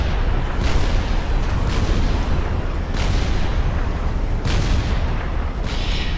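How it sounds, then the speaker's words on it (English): UEF turrets firing in the real-time strategy game Supreme Commander: dense, continuous battle noise with heavy booming shots recurring roughly every second or so, loud and unbroken throughout. "Now we have 3 of our turrets blazing away."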